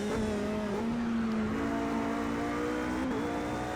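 Race car engine on the Daytona Road Circuit in a racing game, holding a loud, steady roar with shifting pitch as it accelerates and shifts, continuous and close throughout with no talk.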